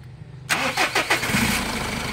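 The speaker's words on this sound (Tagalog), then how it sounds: "nakatanggal yung belt natin, papaandarin ko mga bossing" A Mitsubishi Montero engine with its drive belt removed cranks with a few rhythmic turns and catches, settling into a steady, close idle.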